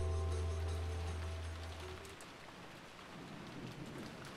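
Steady rain pours down with a deep thunder rumble in the opening seconds, a stormy backdrop from the visual novel Umineko, with no voices.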